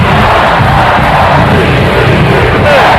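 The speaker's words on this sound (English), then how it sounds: "The roar of the crowd." A stadium crowd roars in a continuous loud, dense wash of cheering and yelling, sustained without a break, heard in a college football radio advertisement.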